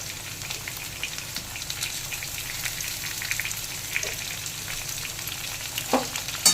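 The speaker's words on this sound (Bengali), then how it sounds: "এবার পেঁয়াজটা একটু ভেজে নেব সাথে।" Chopped onion fries in a pan with browned taro and potato, giving a continuous close sizzle with light stirring scrapes and a couple of louder knocks near the end, no voices.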